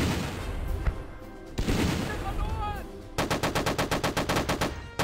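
An engineer unit fires in the Battle Academy game, sending out a rapid, evenly spaced burst of machine-gun shots that is loud and rhythmic, after a stretch of mixed battle noise and some voice.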